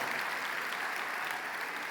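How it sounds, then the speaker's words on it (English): Audience applause at a high school commencement ceremony, a soft, distant wash of many hands clapping steadily without a break. "Give these folks a round of applause."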